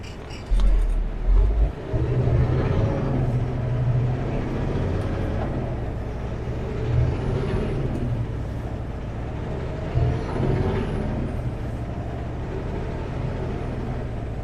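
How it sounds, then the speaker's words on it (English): A fully loaded Super B truck labouring up Blewett Road near Nelson, BC, its engine droning steadily at close range with low rumbling swells and faint higher whines. "Because we have a Super B fully loaded, this truck is gonna work harder than it's ever worked in its life."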